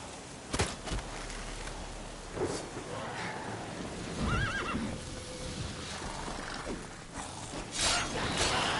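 Roach, Geralt's horse in The Witcher 3, whinnies in a short, rising call amid hoof clops, low rumbling and steady game ambience, with no talking over it.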